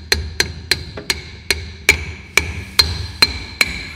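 Sharp metallic hammer blows on a Volkswagen Saveiro Summer's brake drum ring out about every half second, eleven strikes in a steady rhythm, each with a bright clanging ring, close and loud.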